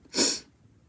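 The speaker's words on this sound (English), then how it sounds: "okay, just 2 sneezes." A single short, breathy sneeze sounds close by, a quick airy burst that fades into quiet.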